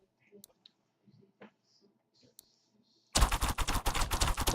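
Archers firing in the fantasy tower-defense game Defender's Quest: a few faint scattered clicks, then a loud, dense rapid volley of shots that continues to the end.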